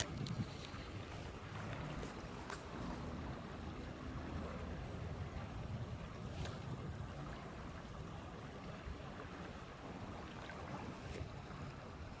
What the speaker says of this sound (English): Really bad with wind again today.